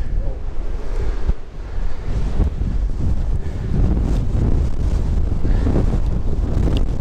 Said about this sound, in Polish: Wieje strasznie.